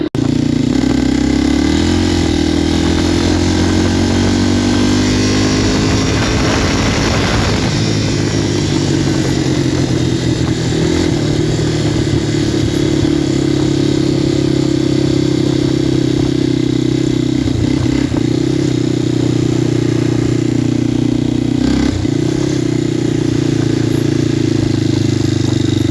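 A 1994 Yamaha Kodiak 400 ATV engine runs steadily while being ridden, a loud continuous droning hum with slight pitch shifts as the throttle changes, close and unbroken for the whole stretch.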